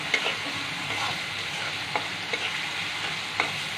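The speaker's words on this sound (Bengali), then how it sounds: "আর একটু ভেজে নিব।" Onions and tomatoes frying in a pan, with a steady close sizzle and occasional sharp taps and scrapes from a stirring utensil.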